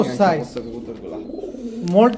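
A large black dauka pigeon coos close by at a market sale, giving low throaty coos with talk mixed in.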